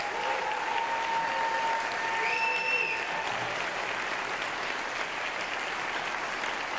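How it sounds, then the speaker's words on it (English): Sustained applause from a high school spring band concert audience fills the whole stretch, a steady wash of clapping with a brief high tone near the start. "Can we just give a round of applause for the students on stage?"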